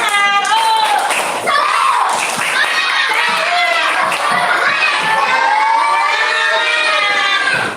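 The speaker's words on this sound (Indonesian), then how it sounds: "Coba tepuk semangat dulu." Schoolchildren in a classroom performing a tepuk semangat clapping chant, loud excited voices shouting and chanting together with rhythmic claps and thumps, continuous and close.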